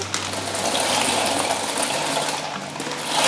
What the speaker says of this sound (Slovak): Vriená voda na cestoviny, takže hodíme tam cestoviny.